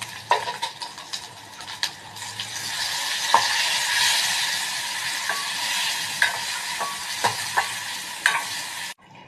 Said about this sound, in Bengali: আলুটা আমার ভাজা হয়ে গেছে। এর মধ্যে আমি এখন মশলাটা দিয়ে দিচ্ছি।